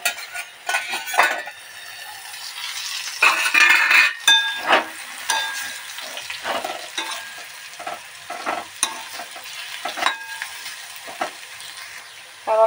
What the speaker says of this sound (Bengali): এদিকে আলু ভাজাটাও হচ্ছে, এটাও একবার খুলে নেড়ে দেবো।